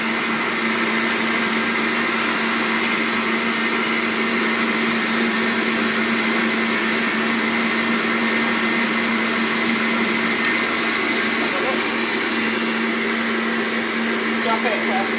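An electric whisk runs steadily while whisking cream until it thickens, a continuous loud whirring drone that holds for the whole stretch without pause.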